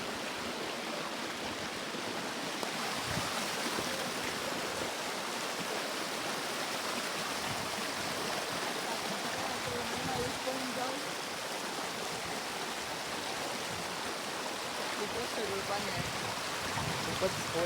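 A swollen monsoon stream rushes steadily, a dense, continuous roar of flowing water that holds loud and unbroken from start to finish.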